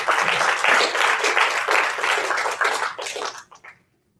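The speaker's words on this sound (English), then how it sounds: "You can also applaud." A live audience at a tech community event applauds steadily, dense clapping filling the room for about three seconds before thinning out to a few last claps and silence.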